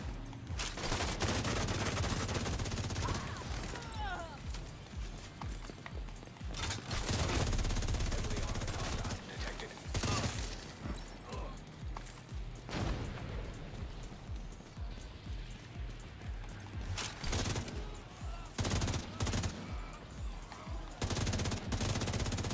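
Gunfire in The Division 2, rapid automatic bursts and sharp repeated shots in loud clusters across the whole stretch, with short gaps between volleys.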